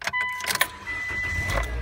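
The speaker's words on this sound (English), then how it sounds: "So now we have a starting car." A car engine turns over and catches after its battery corrosion was dealt with, then settles into a steady running hum heard close up with no talking.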